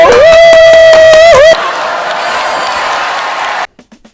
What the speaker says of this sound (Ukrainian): Оплески для нього.